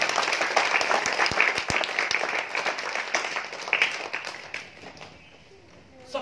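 An audience at a community leadership training gathering claps, with sharp individual hand claps blending into scattered applause that thins out and trails off, while a voice speaks over it.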